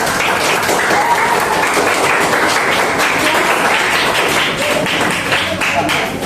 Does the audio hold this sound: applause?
yes